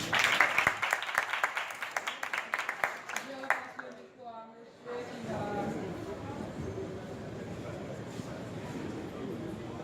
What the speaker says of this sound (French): Avec vos applaudissements.